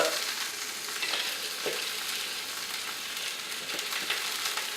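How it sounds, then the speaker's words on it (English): Shrimp par-cooking in a little oil in a pan for a sweet and sour stir fry, giving a steady, close, continuous sizzle and frying hiss with a few faint stirring scrapes. "to cook our shrimp in just a little bit of oil"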